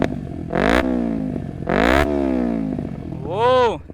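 Kawasaki Ninja 250R with a slip-on exhaust and no dB killer, revved in two loud sharp bursts that climb and fall, then a shorter third blip, all close by with no talk over it.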